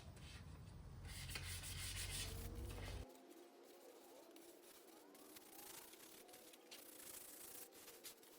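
Hand sanding a painted surface with 240 grit wet and dry paper, a soft steady rubbing rasp that runs loud for about three seconds, then drops to quieter, thinner strokes close to the microphone.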